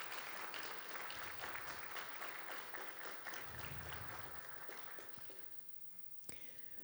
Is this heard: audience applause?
yes